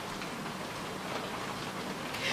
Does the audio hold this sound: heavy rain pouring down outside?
yes